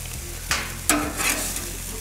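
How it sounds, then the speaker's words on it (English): Hamburger patties sizzle on an outdoor grill, a close, steady hiss broken by a couple of sharp clatters as they go down, with no voices. "Put them on the grill. Because you want to let them cook there for a minute."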